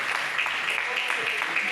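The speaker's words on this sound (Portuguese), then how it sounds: "Pode bater mais felizes essas palmas" A church congregation claps along during a sermon, a brisk patter of hands heard under a voice speaking over it.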